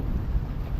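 Rain falling on a boat during a tuna fishing trip, a steady low rushing patter with gusts of wind buffeting the microphone, close and continuous with no voices.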